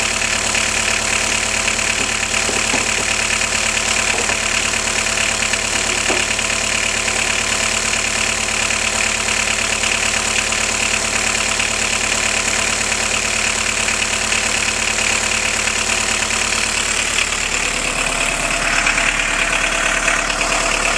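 A Volkswagen T25 van engine idling steadily and loudly up close, a constant rough mechanical drone with a slight knocking texture throughout.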